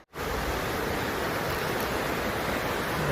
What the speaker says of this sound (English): The river is a-flowing.